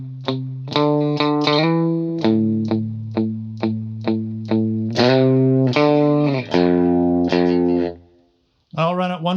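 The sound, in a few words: electric guitar lead run with chorus effect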